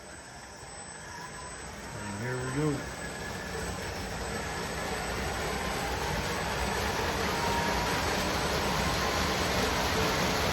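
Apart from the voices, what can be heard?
3D printed model train starting and pulling 30+ cars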